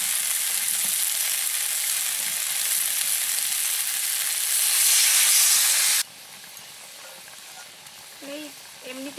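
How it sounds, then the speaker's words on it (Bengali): Water poured into a hot pan of potato and cauliflower masala makes a loud, steady hiss and sizzle that cuts off sharply, leaving a quieter bubbling with a voice coming in briefly near the end. "এবারে আমি জল দিয়ে দিচ্ছি"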